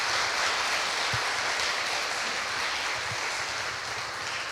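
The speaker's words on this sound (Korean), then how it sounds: "잠깐 일어나시면 우리 환영하는 박수 한번 하도록 하겠습니다" Congregation applause at a Korean church Sunday service welcoming visiting pastors, a steady wash of clapping from a large room that tapers slightly toward the end.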